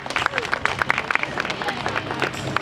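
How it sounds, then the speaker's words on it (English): Audience applause for a volunteer at a live bird show, scattered claps mixed with crowd murmur, moderately loud and close, lasting a few seconds. "If we can get a big round of applause for our volunteer out here"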